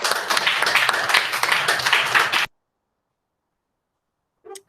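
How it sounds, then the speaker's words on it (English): Children and audience at a school celebration assembly clap together in a dense, even burst for about two and a half seconds, then stop abruptly into silence before a short faint sound at the end. "So can we give them a clap, please?"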